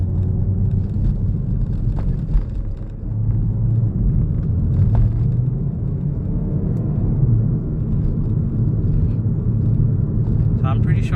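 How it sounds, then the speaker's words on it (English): Steady low road rumble and tire roar from a 2022 Hyundai i30N rolling over a rough road surface, continuous throughout while someone talks over it. "I'm pretty sure at this moment you guys can only hear the tire noise, but partly this road is quite rough"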